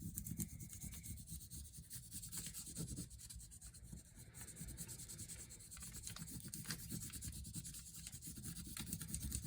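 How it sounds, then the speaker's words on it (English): Pencil rubbing firmly back and forth on paper laid over a natural object, a steady close scratchy rasp that continues unbroken and fairly quiet with no talk. "So what happens when you rub a little bit harder?"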